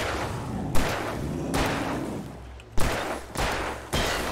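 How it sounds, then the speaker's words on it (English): Gunfire in slowed bullet-time mode in the Alan Wake Remastered video game: four or five heavy, booming shots spaced roughly a second apart, each trailing into a low rumbling tail, with no talk over them. "Here, take the gun. Okay, Max. Now go into bullet time."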